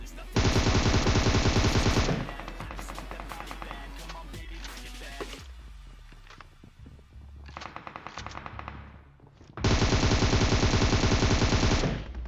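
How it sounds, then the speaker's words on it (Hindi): Automatic weapon fire in PUBG Mobile on a military base map: long, dense bursts of rapid shots, loud and close, separated by a quieter stretch of scattered game sounds and more distant shots. "मैंने दूसरे बंदे पे यहाँ पे कुछ शॉट्स लेने का ट्राई मारा"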